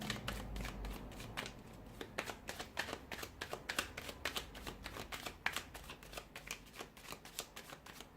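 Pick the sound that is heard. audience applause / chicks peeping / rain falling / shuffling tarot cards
shuffling tarot cards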